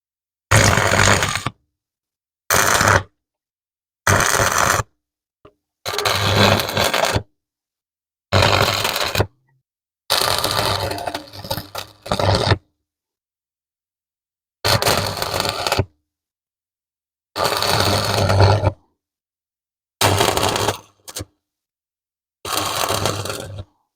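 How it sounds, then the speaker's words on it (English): Metal rake parts are welded together in a string of harsh, crackling buzzes, each lasting about a second or two, separated by clean stretches of silence. "I'm going to weld those 2 together"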